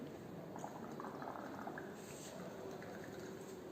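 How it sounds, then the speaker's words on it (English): Bubbling, airy gurgle from breath blown into sodium hydroxide solution in a beaker to mix it during a pH titration, steady and soft throughout with no speech. "Mix the solution, or you can blow the solution for mixing."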